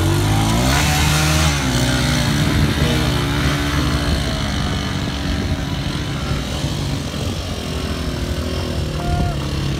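Motorcycles ride past near a seaside port, a loud continuous engine drone with revving that rises and falls over the whole stretch.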